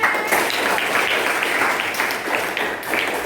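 Applause from a classroom of children, a steady broadband patter of many small hands lasting the whole stretch, fairly loud and close, with a faint voice briefly audible under it.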